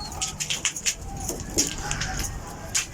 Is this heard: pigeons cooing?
yes